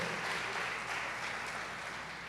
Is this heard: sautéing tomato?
no